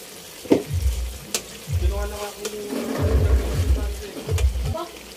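Vegetables tipped into a hot frying pan in a Filipino home kitchen, giving several bursts of close sizzling with stirring and scraping amid steady background noise.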